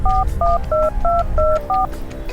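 A sequence of six telephone keypad tones, steady two-pitch beeps in an even rhythm, played loud over low background noise while someone dials a number.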